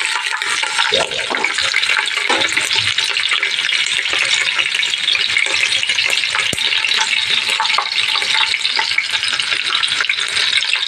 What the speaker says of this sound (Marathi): चुरचुर आवाज येतो.